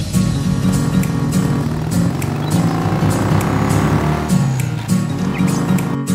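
A button-start motorbike ridden off by young kids: a steady engine drone close by, with a rising rev partway through as it pulls away, over general street noise.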